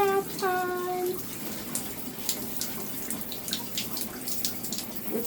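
Water pours and splashes into a backyard bird bath on a hot morning, a steady close running-water wash lasting throughout, with a brief whistling chirp near the start.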